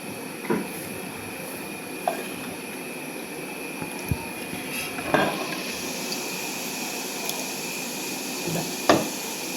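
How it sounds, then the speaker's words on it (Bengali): Cooked ash gourd is spooned from a pot into a bowl, a few sparse, soft clinks and knocks of utensil on cookware spaced apart over a quiet kitchen background. "এখন বাটিতে তুলে দিচ্ছি বাটিতে তুলে নিয়ে"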